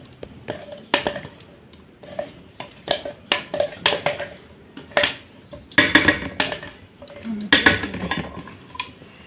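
Idli batter mixed and beaten by hand in a vessel, a series of irregular clinks and knocks of hand and utensil against metal, close and fairly loud, with brief quiet gaps between strokes.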